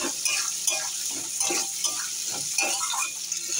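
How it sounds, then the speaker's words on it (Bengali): Chopped onions fry in hot oil, a steady close sizzle with intermittent stirring scrapes and clinks of utensil on the pan, continuous with no talking. "আর পেঁয়াজগুলো তেলের উপরে দিয়ে দিয়েছি। এগুলো একটু ভালো করে ভাজা করে নেবো।"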